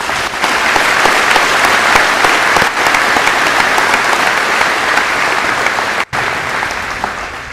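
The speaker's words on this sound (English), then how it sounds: "Please join us for a round of applause." Sustained applause from a graduation ceremony audience at a 2021 high school commencement, dense and steady throughout with a brief dip near the end, loud and filling the hall.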